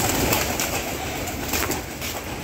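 Pigeons kept on a small home farm coo close by in a dense, continuous chorus of soft throaty calls, with no talk over them.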